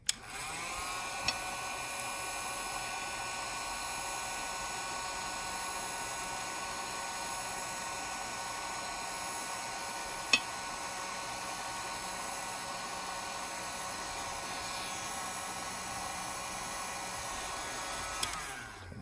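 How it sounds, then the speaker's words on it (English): A heat blower warms a Samsung S9 Plus phone during a screen replacement, giving off a steady, even whooshing hiss that runs unbroken for the whole stretch at a constant level. "So let me put some heat on it."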